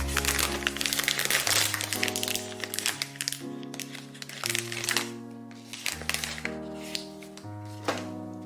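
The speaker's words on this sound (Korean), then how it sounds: "연대빵 뜯어볼게요" The plastic wrapper of a cream-filled Yonsei bread is torn open with bursts of close crinkling and crackling under steady background music.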